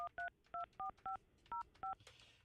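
A phone number is dialed on a touch-tone keypad: about eight short, evenly spaced dial tones beep in steady succession, loud and clear, with faint background noise and no talking.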